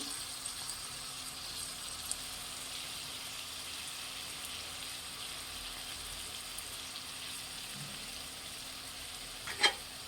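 Pepper chicken being stirred and mixed in a pan gives a steady, moderate sizzle throughout, with a few faint scraping clicks and a brief louder knock near the end. No one speaks.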